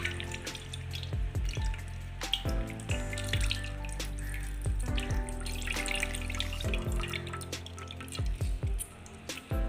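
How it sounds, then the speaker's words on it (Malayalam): Tamarind water is poured and squeezed into a pan, giving a series of close, irregular drips, splashes and trickles with sharp liquid plops scattered across the whole stretch, with no talk. "ഇതിലേക്ക് നമുക്ക് ഈ പുളി പിഴിഞ്ഞൊഴിക്കാം."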